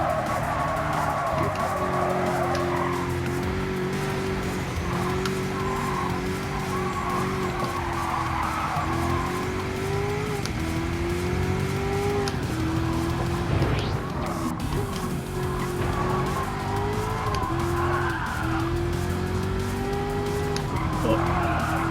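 Car drifting sideways in the Gran Turismo 7 racing game, with sustained tire squeal and a steady high engine note running throughout; a voice talks over it in places.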